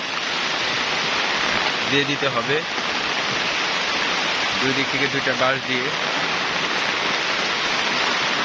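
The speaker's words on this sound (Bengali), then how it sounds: "দেখছেন প্রচণ্ড বৃষ্টি হইতেছে" Heavy rain pours down steadily over a banana plantation, a loud, dense, even roar that fills the whole clip while someone talks over it in two short stretches.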